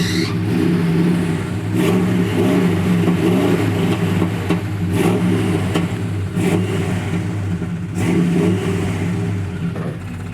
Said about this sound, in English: I think it's just a truck vibrating.